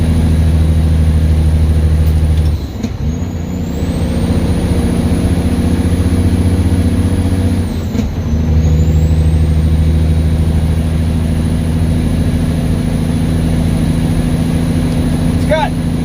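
An 18-speed log truck's engine with dual exhaust rumbles loud and close from inside the cab, a deep steady drone with two brief dips as it shifts gears, while a voice talks over it.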